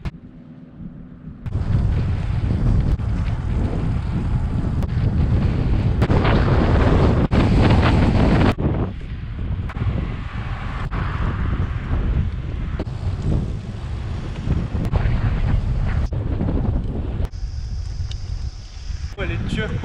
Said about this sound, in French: Super relaxant, le bruit des vagues.